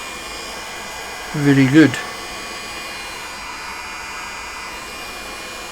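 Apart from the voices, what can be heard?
popcorn maker blower with heating element running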